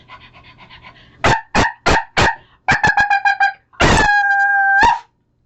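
A voice imitates a dog barking, giving a string of short, loud yelps in two quick runs, then a longer drawn-out howl-like bark, close and alone.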